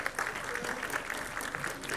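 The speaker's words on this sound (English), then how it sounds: "I request audience to please cheer the awardees." An audience at a medical college convocation claps for the awardees with sustained, moderately distant applause from a crowd, some faint voices mixed in.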